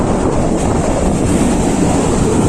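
A broad, rumbling wash of surf rolls onto Mandarmani beach continuously, muddied by wind buffeting the microphone, with no voices.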